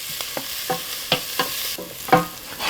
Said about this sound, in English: We're going to saute these down for, 4 or 5 minutes until the onions just start to get soft and translucent